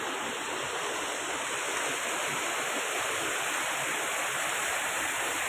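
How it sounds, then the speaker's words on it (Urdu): Clear water flowing past large boulders in a mountain stream near Haripur Nara village, a loud continuous rushing wash heard up close, unbroken and without speech. "یہ بڑی بڑی چٹانیں جن کے ساتھ یہ پانی بہہ رہا ہے۔"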